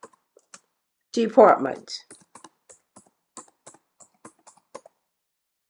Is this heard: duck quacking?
no